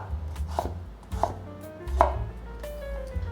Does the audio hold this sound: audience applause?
no